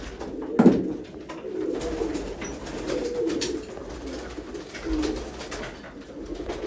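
A flock of Sialkoti pigeons produces overlapping murmuring coos at close range, with one louder burst near the start and a few swelling phrases afterward, no speech heard.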